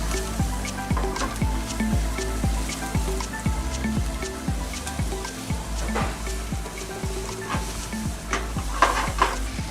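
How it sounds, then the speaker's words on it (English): Rice fries in a hot pan while being stirred, a steady sizzle broken by repeated scraping strokes of a utensil against the pan in an uneven rhythm, close up with no talk. "frying the rice"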